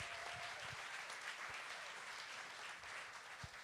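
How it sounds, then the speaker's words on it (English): Audience at a pitch night applauding the judges, a continuous, fairly distant wash of many hands clapping at an even level. "let's everybody give another round of applause for the judges"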